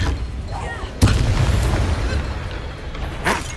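The Confringo blasting spell in Hogwarts Legacy bursts with a sudden loud boom, then a rumbling tail under game ambience, and a second sharper crack follows near the end.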